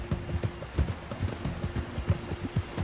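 Quick, steady hoofbeats of a horse in Red Dead Redemption 2 clip-clop in a continuous trotting rhythm over a faint background hum, with no talking.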